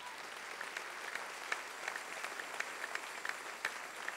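Church congregation clapping, quite faint and distant, a steady patter of applause with a few sharper claps standing out.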